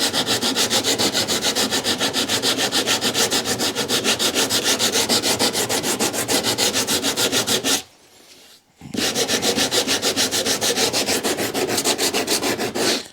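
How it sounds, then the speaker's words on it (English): A 120-grit block sander rubbing hard across a laminate countertop inside a camper, making loud, steady back-and-forth rasping strokes with one brief pause. "This is a 120 grit block sander."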